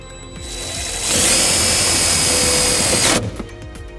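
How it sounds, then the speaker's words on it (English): A power driver with a 1/4 inch socket sinks a self-tapping ground screw into the body of a 2005 Volvo XC90, a loud whirring burst of about two seconds that stops abruptly, followed by a brief rattle. "I'm gonna use a 1/4 inch socket to ground it up. And it's a self-tapping screw."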